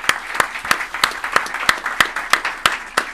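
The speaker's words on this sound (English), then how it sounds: "And again, a round of applause to you guys." Sparse audience clapping after thanks at a graduation ceremony, about ten distinct claps spaced evenly over three seconds, moderately close and with no talk over it.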